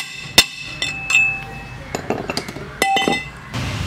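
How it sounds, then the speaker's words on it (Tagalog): Hammer tapping a pipe to seat a ball race on a Yamaha Sniper 150 motorcycle, a few sharp metallic clinks spaced irregularly with a bright ringing tail, close and moderately loud. "Tapos pupukpukin natin ng martilyo sa taas para lumapat."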